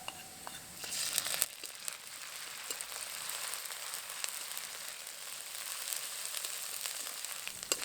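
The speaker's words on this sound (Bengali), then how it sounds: "এবার দিয়ে দেবো আদা রসুন বাটা।" A soft, steady sizzle of ginger garlic paste frying in oil, with crinkly crackles and a few stirring scrapes, close and fairly quiet.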